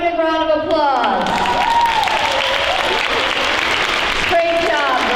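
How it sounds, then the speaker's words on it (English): Boys and girls at a school Veterans Day assembly give a big round of applause, a full, sustained wash of clapping from the crowd, with voices calling out over it. "let's give him a big round of applause"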